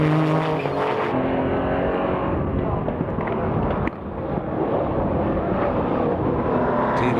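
GT sports race cars, including a Marcos, roar past at Silverstone in a 1995 national GT race, a loud continuous engine drone with one brief dip as a car goes by, no talk.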